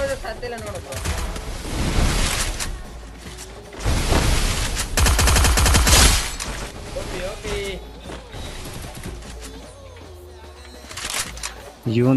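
Rapid bursts of video game gunfire crackle and rattle loudly, with sustained automatic fire in the middle, over a busy game soundscape.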